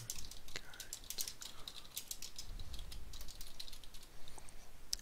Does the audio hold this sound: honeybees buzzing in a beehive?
no